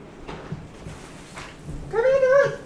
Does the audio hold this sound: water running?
no